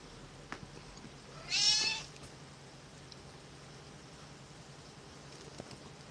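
A tortoiseshell cat gives one drawn-out meow at close range, clear above a faint, quiet room background, with no talking.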